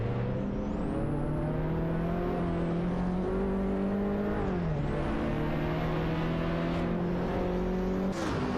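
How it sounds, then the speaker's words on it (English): Race car engines in a racing video game scream at high revs, several cars whining and shifting pitch together as they accelerate, a steady, loud mechanical drone with brief dips as gears change. "Let's see those virtual engines roar."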